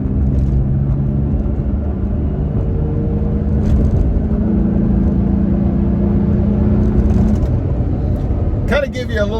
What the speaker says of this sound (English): I do notice a deeper sound to the exhaust or the note on the Tacoma